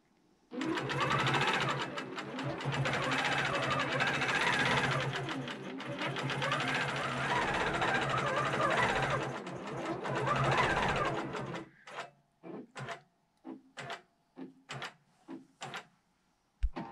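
A QCT5 Pro quilting machine stitches a chunked border in EZ mode, a steady continuous mechanical whir for about eleven seconds, then stops and gives way to a string of short knocks and clicks as the quilt is moved.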